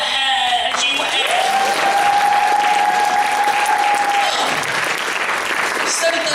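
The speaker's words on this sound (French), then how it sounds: "On la refait avec les applaudissements et tout" Audience applause at a live stage show in a cultural and social centre, a broad steady wash of clapping throughout with a sustained whistle-like tone through the middle.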